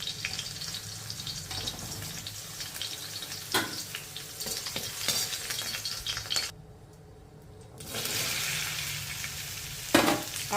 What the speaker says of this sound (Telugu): ఆ మిగిలిన బెండకాయ ముక్కలను కూడా ఫ్రై చేసేసుకోవాలి.